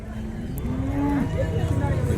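Bulls moo at the Kundarapalli cattle market, one long low bellow rising and falling for about a second, with shorter moos after it over a busy outdoor crowd murmur.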